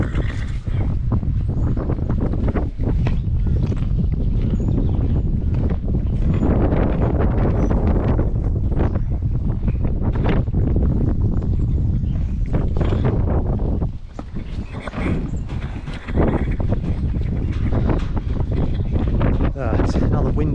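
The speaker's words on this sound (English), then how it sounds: "It's another windy day today." Strong wind buffets the microphone outdoors on a windy farm day with cows nearby, a loud continuous rumble with gusts throughout and a brief lull partway through.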